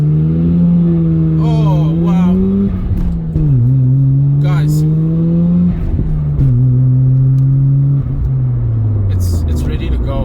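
A Mazda RX-7 rotary engine revs through rising and falling gear pulls while driving, loud and close from inside the car, with a brief spoken exclamation over it.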